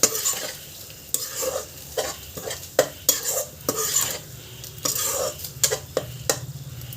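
Chole cooking with chole masala in a pan, stirred with a utensil: repeated sharp scrapes and clinks of metal on the pan over a low sizzle, at an irregular rhythm and close by.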